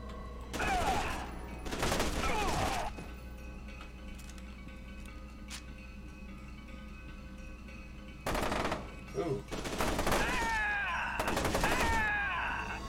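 Bursts of machine-gun fire in a first-person shooter video game, in several loud sustained volleys near the start and again toward the end, with a quieter stretch of ambient game sound between them.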